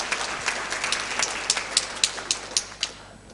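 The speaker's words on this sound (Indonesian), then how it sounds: "Tepuk tangan untuk adik-adik semua." A round of applause for graduates at a college graduation ceremony, scattered hand claps that thin out over a few seconds into a few louder, separate claps near the end.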